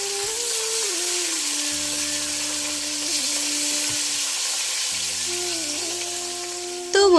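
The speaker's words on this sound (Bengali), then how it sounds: "এদিকে কিন্তু আমার মোটামুটি মাছ ভাজা হয়ে গেছে" Fish frying in oil in a pan gives a steady, close, loud sizzle that runs unbroken throughout, with a faint tonal hum underneath and no talking.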